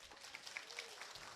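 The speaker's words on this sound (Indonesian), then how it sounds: "Tepuk tangan untuk santri." Audience applause for santri at an Islamic sermon, a steady wash of hand clapping from a crowd, fairly faint and distant, running without a break for a moment.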